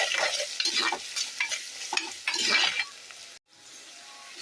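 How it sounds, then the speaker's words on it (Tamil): Garlic and onions sauté in a pan for a home-style fish curry, with a utensil stirring and scraping in brisk, irregular strokes over a close sizzle that stops abruptly near the end; nobody speaks. "பூண்டையும் சேர்த்து நல்லா வதக்கிக்குவோம்"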